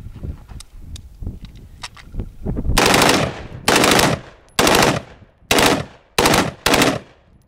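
An Urban Squad Automatic Weapon machine gun fired from the shoulder outdoors lets out six loud, sharp bursts of rapid fire in a steady rhythm, after a few lighter clicks and handling noises.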